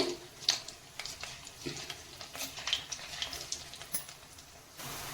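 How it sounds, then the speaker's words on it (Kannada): Idlis go one by one into a little oil in a pan and fry, giving a light crackling sizzle with scattered pops and taps, moderately close and fairly quiet, with no one speaking. "ಇದರಲ್ಲಿ ಒಂದೊಂದೇ ಇಡ್ಲಿಗಳನ್ನು ಬಿಡ್ತಾ ಹೋಗ್ತೀನಿ ನೋಡಿ ಮಿಕ್ಸ್ ಮಾಡಿಟ್ಟಿರೋಂಥದ್ದು ಈ ಥರ ನೀವು ಹಾಕ್ಕೊಳ್ಳಿ ಸ್ವಲ್ಪ ಎಣ್ಣೆಯಲ್ಲಿ ಫ್ರೈ ಮಾಡ್ಕೊಳ್ಳಿ"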